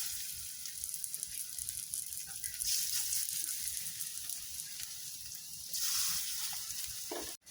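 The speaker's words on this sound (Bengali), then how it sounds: "তেলটা গরম হয়ে গেছে, এখন আমরা বড়ার মতো করে মোচাটা দিয়ে দেব।" Banana flower fritters fry in hot oil in a kadai, a steady close sizzle with crackling bubbles that swells briefly before cutting off.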